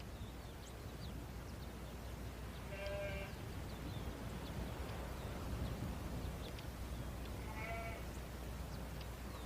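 Sheep on a ranch bordering a Patagonian park in Chile bleat twice, a few seconds apart, moderately distant over a constant low outdoor rumble.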